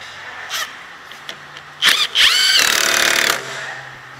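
A tool tightening the lower control arm bolt on a Dodge Charger, a few short ticks, then a loud whirring burst of about two seconds, close by.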